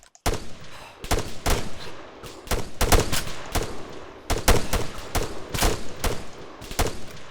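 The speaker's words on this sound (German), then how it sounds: "Schießen." Rapid bursts of gunfire in the video game ArmA 3, a house-to-house firefight near a football field: a dense string of loud, sharp shots in quick irregular volleys, close and dominant throughout.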